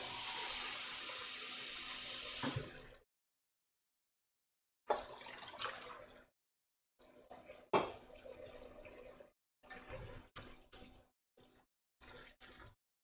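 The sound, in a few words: water running from tap while cooking risotto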